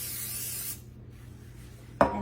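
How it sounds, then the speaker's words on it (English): Cooking spray hisses onto a flour tortilla being made into cinnamon-sugar chips: one steady, close spray lasting under a second, then near quiet, with a brief clatter at the end. "So let's spray it."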